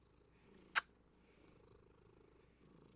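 A house cat purrs quietly and steadily at close range, a soft low rumble with a single sharp click near the start.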